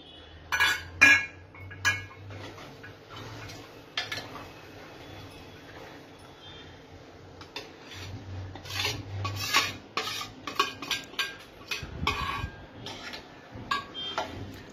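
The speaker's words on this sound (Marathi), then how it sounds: "हलक्या हाताने आपल्याला फिरवून घ्यायचंय." A spoon stirs paneer into dhaba-style masala gravy in a pan, giving repeated clinks and scrapes against the metal that come in irregular bursts and grow busier and louder toward the end, with no talking.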